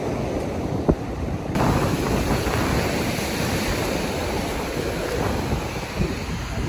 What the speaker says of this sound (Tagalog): Talagang naabot dito ang alon mga kadilag.